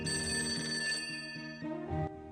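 A telephone rings with bright, repeated electronic bell tones in a quick pulsing pattern for about two seconds. The rings are close and clear, with no voices.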